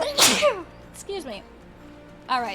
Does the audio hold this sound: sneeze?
yes